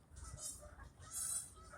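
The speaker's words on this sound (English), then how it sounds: "the ducks" Ducks call in faint, raspy honking bursts against a steady outdoor background, two rising swells of calling a short distance away.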